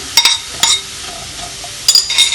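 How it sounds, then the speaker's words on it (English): Apples tossed into a pan on the stove, a few sharp utensil clinks and stirring scrapes over a soft, steady sizzle, close by and without speech. "Apples go into a pan"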